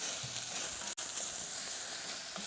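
Bacon frying in a pan with rosemary and mashies added, a steady close sizzle with faint stirring clicks throughout and a brief dropout partway, no talk.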